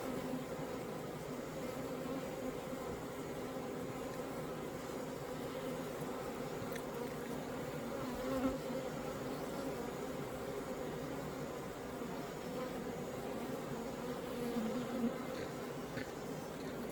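Honeybees at a hive hum in a dense, constant drone while a black hornet attacks, the buzzing steady and fairly quiet throughout, with a couple of slightly louder passes.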